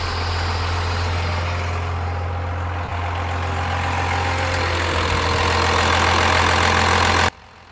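A diesel truck engine at full operating temperature idles steadily and loudly, a constant deep rumble with a droning low hum throughout that cuts off abruptly at the end.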